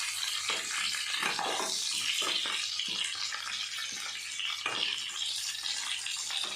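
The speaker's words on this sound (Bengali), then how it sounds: "এবার একটু নুন দিয়ে দেবো, নুন আর একটু হলুদ দিয়ে দেবো, দিয়ে একটু ভাজা ভাজা হোক" Potatoes fry in a pan with salt and turmeric added, giving a steady, moderately loud sizzle with broadband hiss and occasional stirring scrapes throughout, with no talking.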